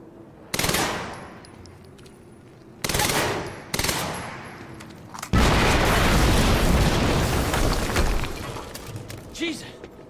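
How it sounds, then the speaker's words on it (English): Explosions and gunfire in the video game Quantum Break: loud bursts of rapid automatic fire start and stop, then a sustained roaring blast of debris and shooting that gradually fades. "just heard an explosion near the harvesting perimeter"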